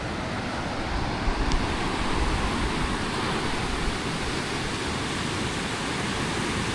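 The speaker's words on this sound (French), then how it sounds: "Et il y a quand même des vagues finalement." Ocean waves washing on an Indonesian beach near a snorkelling spot with boats offshore, a steady, loud broadband surf rush with some wind, no talking.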